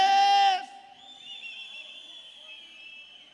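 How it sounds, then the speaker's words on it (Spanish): A brief loud harmonic cry gives way to a long, high whistle from men, held steadily for about three seconds. "Una vez más, el silbido de los hombres."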